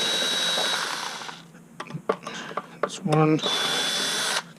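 A cordless power driver on a Terrain/Ryder tri gearbox backs out motor controller screws in short, separate whirring bursts at close range. Someone talks between the bursts.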